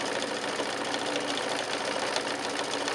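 A sewing machine stitches fabric for a quilted table runner, running as a steady fast mechanical whir close by with no pauses.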